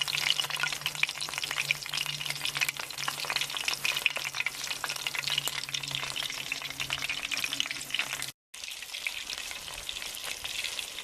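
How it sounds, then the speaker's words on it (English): Cumberland sausages brown in a British Army mess tin over a camping stove, a constant close sizzle with spitting crackles and occasional scraping stirs, broken by one brief gap. "So that's the sausages browned all over."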